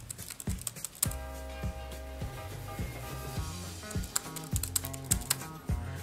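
Keys on a PC keyboard once used for gaming, with one key broken, clack in quick irregular bursts of close, crisp strokes, a few heavier presses standing out, and no talking.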